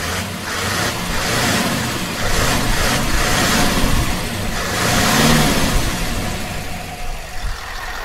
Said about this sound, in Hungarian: Adjunk neki egy kis röffentést!